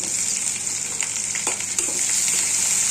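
Onions hitting hot oil for a Bangladeshi dried-fish (shutki) curry, a steady, loud, close sizzle throughout with a few brief crackles and pops.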